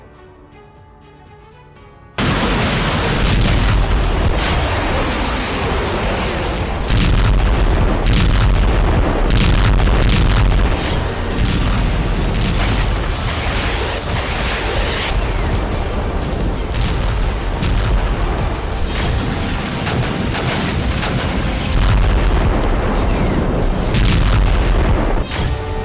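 Heavy explosions and artillery bombardment in Ukraine roar in dense, continuous booms after a brief quieter start, loud and relentless with overlapping blasts and no talk.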